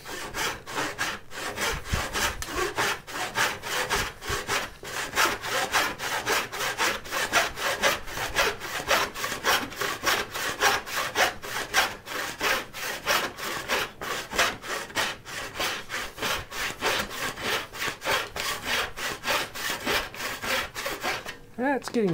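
A hand saw cuts through wood for a turning saw handle in steady, rhythmic back-and-forth strokes that are close and continuous for over twenty seconds.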